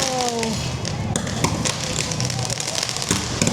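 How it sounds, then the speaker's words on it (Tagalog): Fireworks go off outside a cafe in Sapa, Vietnam, in a string of irregular sharp pops and bangs at moderate distance, mixed with excited voices nearby. "May fireworks!"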